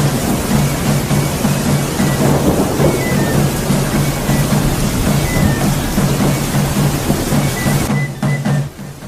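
Steady thunderstorm with heavy rain pouring continuously and low thunder rumbling throughout, loud and close, setting the scene in an audiobook, easing slightly near the end.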